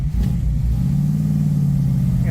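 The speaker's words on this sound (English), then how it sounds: "Gotta give a little gas in that first gear." A 1967 Ford Mustang engine accelerates in first gear with a steady low rumble that stays loud and close for a couple of seconds.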